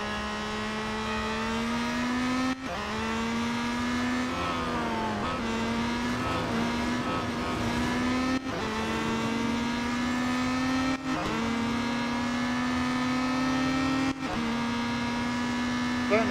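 Peugeot 9X8 race car engine in the Real Racing 3 video game, a loud sustained whine rising through gears, with brief drops at each shift repeating every few seconds, a faint voice talking underneath.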